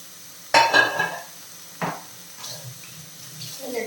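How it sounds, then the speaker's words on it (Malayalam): Crushed raw jackfruit lands in a hot pan with a soft burst of sizzle, followed by scraping stirs. The sounds come as short, separate bursts over a quiet background. "നമ്മൾ ചതച്ച് വെച്ചിരിക്കുന്ന ചക്കയും കൂടെ ചേർത്ത് കൊടുക്കാം."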